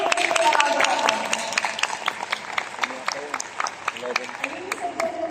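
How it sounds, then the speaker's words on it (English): Scattered audience clapping at a business seminar, a steady patter of hands with a voice speaking over the top. "Let's give it a round of applause."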